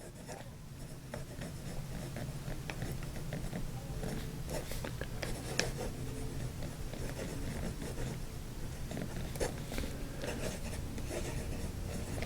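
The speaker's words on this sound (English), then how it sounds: "So let's see how this nib works on this Fabriano paper." A Waterman Charleston Blue fountain pen writes on Fabriano paper, giving a steady, close, faint scratch of nib across the sheet with small irregular strokes and no talk.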